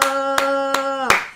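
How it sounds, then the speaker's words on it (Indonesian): A church congregation claps in a steady rhythm, about three sharp hits roughly a third of a second apart, over a sustained held musical tone during a worship service. "Yang percaya kasih tepuk tangan"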